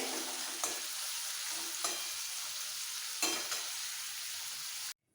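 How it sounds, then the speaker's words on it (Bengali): Paneer cubes fry lightly in hot oil, giving a constant close hiss of sizzling broken by three or four soft stirring scrapes, before the sound cuts off abruptly. "বাকি পনির ভেজে আমি দেখাচ্ছি এরকম একটু হালকা করে ভেজে নিলেই হবে"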